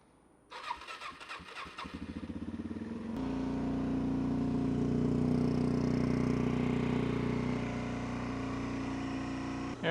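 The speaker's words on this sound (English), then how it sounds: "after a week of not riding and it sitting out in the freezing cold, she starts right up" Suzuki DRZ400 SM motorcycle starting after a week outside in freezing cold: a few seconds of rhythmic cranking, then the engine catches and settles into a steady, close idle that continues to the end.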